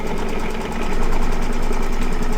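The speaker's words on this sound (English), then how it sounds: "So I'm stitching down fabric plus organza, and so far I like it." An embroidery machine stitches layered fabric and organza, giving a steady, loud, fast mechanical hum with rapid needle chatter that keeps an even rhythm throughout, with no voices.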